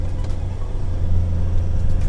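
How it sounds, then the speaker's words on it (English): A Land Rover Defender 90 with an automatic gearbox drives along under manual shift control, its engine giving a steady low rumble that builds slightly as it pulls, close and continuous with no talk. "we have now got manual shifting, and we're going to test that out right now"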